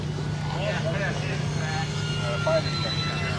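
A radio-controlled F4U Corsair scale model plane comes in to land, its propeller engine giving a steady droning hum beneath someone talking nearby.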